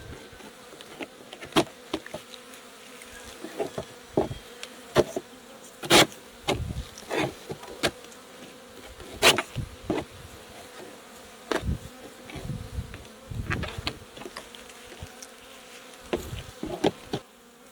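Honey bees swarm around freshly opened hives, a steady close buzz with many individual bees zipping past the microphone in loud, repeated passes.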